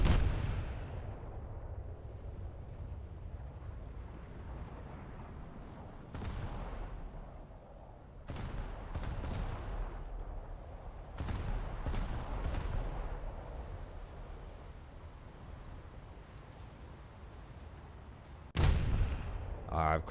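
Naval gunfire aimed at an aircraft carrier during a realistic US Navy versus Imperial Japanese Navy warship game: a steady rumbling barrage with several heavy, booming bursts, moderately loud throughout and without talk.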